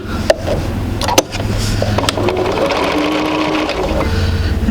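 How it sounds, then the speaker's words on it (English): A sewing machine stitches a quilt seam for a basic sampler quilt, running in a steady, close mechanical whir with a couple of sharp clicks near the start. "we're going to go ahead and sew that just so I can show you how to get the end going"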